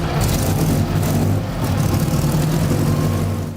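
A restored 1924 Mercedes Targa Florio racing car's supercharged compressor engine runs steadily and loudly up close, a dense low rumble with strong pulsing harmonics and no voices.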